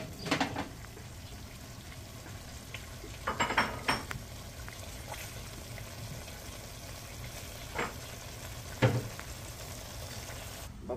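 Beef stew in red chile simmers softly in a pan while a utensil stirs and scrapes in a few scattered bursts, close but fairly quiet over a low background sizzle.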